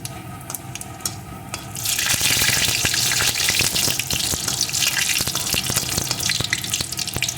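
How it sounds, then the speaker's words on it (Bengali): A dried red chili and panch phoron hit hot oil for a fish curry, quiet scraping giving way to a sudden loud, crackling sizzle that holds steady and close with spattering pops. "তেলের ভিতরে এখন আমি ফোড়নে দিয়ে দেবো একটা শুকনো লঙ্কা একটু পাঁচ ফোড়ন ফোড়নটা সুন্দর করে ভেজে নেব"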